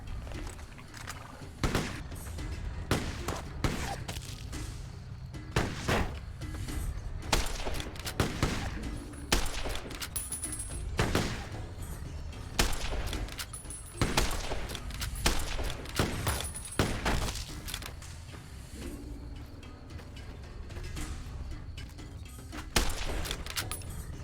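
Shotgun gunfire in the video game Fallout New Vegas during a ghost town gunfight, with loud sharp blasts fired at irregular intervals over a constant low background rumble.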